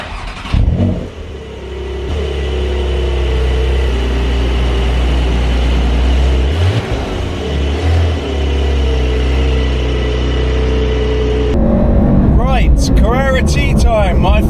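Porsche 911 992.2 Carrera T firing up and pulling away, a loud flat-six idle building into revving as the car moves off, with people talking over the engine near the end.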